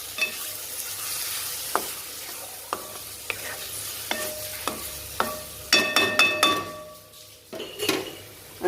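Tomatoes and spices frying in a pan for an Indian kurma, a steady sizzle under repeated scrapes and clinks of a utensil stirring against the pan, with a busier burst of clattering stirring midway, close and without talk.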